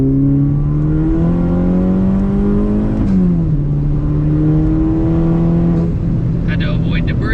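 A Chevrolet Cobalt SS accelerates hard, its engine droning loud and steady from inside the car, pitch climbing through each gear with a brief drop at a shift. A voice talks over the engine throughout.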